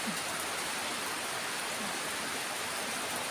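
Heavy rain pours steadily in Korat, Thailand, a dense, even hiss of drops hitting surfaces that holds at the same level throughout, with no voices.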